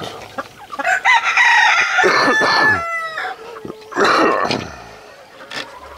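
Native chickens in a pen, with a rooster crowing loudly up close over scattered clucks and squawks from the hens, the crow rising and trailing off before another burst of calls.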